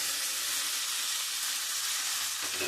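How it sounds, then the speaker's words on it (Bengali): Chopped green chilli, chilli powder, turmeric, cumin, salt and tomato sizzle steadily in hot oil in a pan while being fried down for a koi fish curry with cauliflower and flat beans; a continuous close hiss with a faint stir near the end. "দিয়ে আমি খুব ভালো করে কষাবো।"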